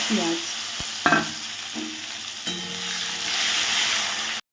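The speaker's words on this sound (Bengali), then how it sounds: "কড়াইতে তেল গরম হয়ে গেছে, আমি এলাচ দারচিনি আর লবঙ্গ তেজপাতা ফোড়নে দিয়েছি" Whole cardamom, cinnamon, cloves and bay leaves sizzle steadily in hot oil in a kadai, a close, continuous frying hiss broken by a few sharp clinks and scrapes of a utensil against the pan before it cuts off.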